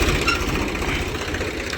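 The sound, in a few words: tractor engine arriving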